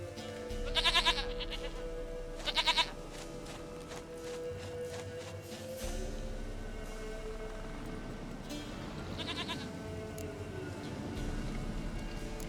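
A goat in The Witcher 3 gives three short, nasal bleats, two close together near the start and one later, over a low, steady game ambience with a droning background tone.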